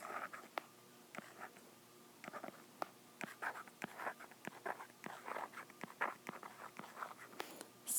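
Numbers are handwritten on paper during a math lesson: a series of quick, close scratchy strokes in short bursts with brief pauses between, fairly quiet and with no talking.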